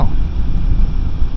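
Blustery wind buffets the rider of a 2024 Royal Enfield Himalayan 450 motorcycle on a UK road, a steady low rumbling roar of wind noise dominating throughout without any voices.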